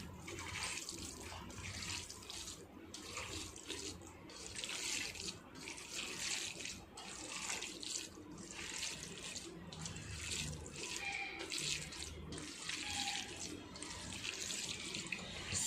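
Water pours steadily from a kitchen tap in an Indian home kitchen during preparation of a curd rice temple offering, a soft continuous rush broken by brief pauses, heard alone.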